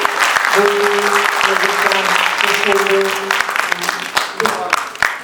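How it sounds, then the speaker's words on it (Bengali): An audience at a stage show applauds the backstage crew, loud sustained clapping with some sharper claps standing out and a held tone beneath, thinning toward the end. "তার আগে একটা জোরে হাততালি আমাদের ব্যাক স্টেজে যারা"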